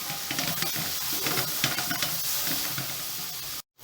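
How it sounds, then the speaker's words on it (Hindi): Cauliflower frying with turmeric in a pan for a cauliflower mutton curry, a loud, close, dense sizzle with rough stirring scrapes throughout, cutting off abruptly near the end. "गोभी को अच्छे से फ्राई करें आप।"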